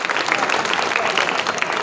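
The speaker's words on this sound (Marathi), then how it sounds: "एकदा जोरदार टाळ्या झाल्या पाहिजेत" A crowd at a public felicitation ceremony in Nigdi bursts into dense, steady applause, loud and sustained for the whole moment.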